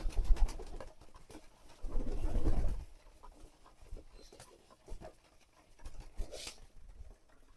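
Domestic pigeons at feeding time, with soft low cooing and rustling in bursts, loudest around the middle, plus faint wing and shuffling noises close by.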